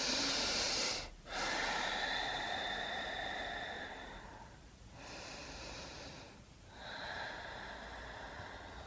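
Slow, deep breaths held in downward-facing dog during a yoga session, long airy inhales and exhales with brief pauses between them, close and steady, with no talking.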